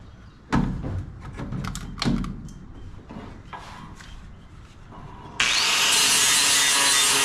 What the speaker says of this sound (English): I'm using a 40 grit flop wheel for this job.